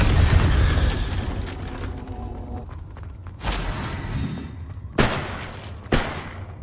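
Bombarda exploding spell from Hogwarts Legacy, a series of booming blasts: a heavy rumbling burst at the start, then sharp detonations around the middle and two more punchy hits near the end, loud and close with no talking.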